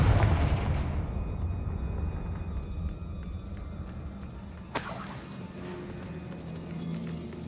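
A single sharp blast from the Confringo fire spell in the video game Hogwarts Legacy bursts out midway over a steady low ambient rumble, followed by a fading tail.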